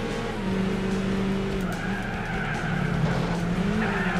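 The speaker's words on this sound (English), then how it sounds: "red car slams on the brakes" Volkswagen Beetle race cars brake hard and skid in a Gran Turismo 4 one-make race, with steady tire squeal over engine drone throughout and no talking.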